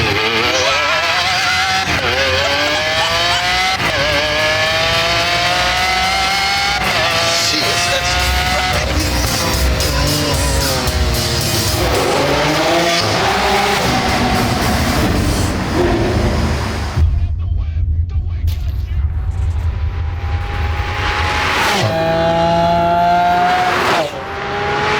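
A Super Veloce supercar in a racing video game, its engine screaming and shifting up through rising and falling revs at close range, with a quieter dip before more sharp revving bursts.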